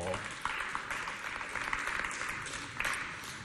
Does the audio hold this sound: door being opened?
no